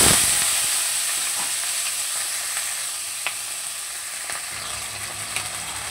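Diced potato and bottle gourd stem hitting hot oil tempered with nigella seeds, a loud burst of sizzling at first that settles into a steady crackling fry with occasional pops and stirring clicks.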